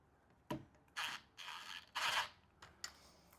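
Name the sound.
tightening Allen bolts on a clamping unit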